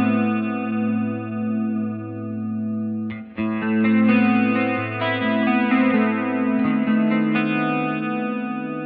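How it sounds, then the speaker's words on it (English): Electric guitar run through an Ampeg Liquifier chorus model on a Line 6 Helix, sustained low chords with shimmering, swirling modulation, then brighter notes added midway, played alone with no talk. "more of the classic kind of chorus effect"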